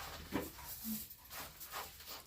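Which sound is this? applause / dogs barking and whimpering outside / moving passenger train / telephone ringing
dogs barking and whimpering outside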